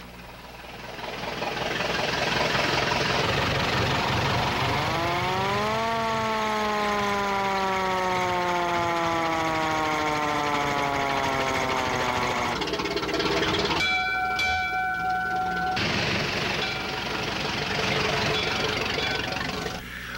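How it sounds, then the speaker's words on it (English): A restored 1918 LaFrance gasoline-powered fire engine runs with a loud rumbling motor while its siren winds up, holds a long wailing tone and slowly falls, then a brief horn-like blast sounds before the engine continues. "This is Doug Sank of Marshall at the wheel of his restored 1918 LaFrance fire engine."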